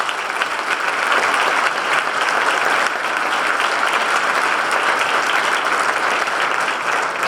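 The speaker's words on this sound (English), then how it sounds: "Another round of applause." A luncheon audience at the Cook Center for Entrepreneurship gives a sustained round of applause, dense and even clapping that holds steady at close range for about seven seconds.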